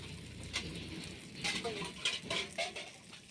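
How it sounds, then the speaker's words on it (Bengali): Meat frying with potatoes in a pan, a soft steady sizzle broken by several scraping, clinking stirs of a utensil against the pan, fairly faint and close. "এখন মাংসটাও দিয়ে দিয়েছে, মাংসটা কষাচ্ছে এখন।"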